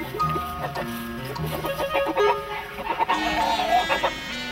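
Young rooster and hens clucking close by while gathered around a snake, with several overlapping calls and short cackles at a steady, busy pace.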